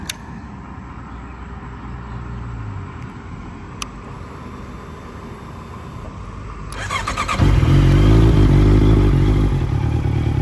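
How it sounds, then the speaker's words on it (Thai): A red-framed 2016 Honda CBR650F limited edition motorcycle engine idles steadily up close, then swells into a louder, fuller roar partway through, with a brief clack early on and no talking. "ฟังเสียงเครื่องกัน"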